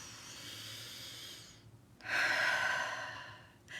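A person breathing during a guided morning breathing exercise, slow audible breaths up close, a softer exhale followed by a louder, fuller inhale with airy hiss, no talk.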